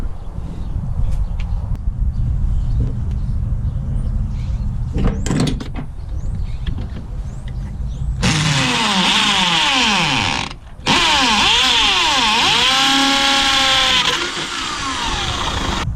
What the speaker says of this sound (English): let me drill that out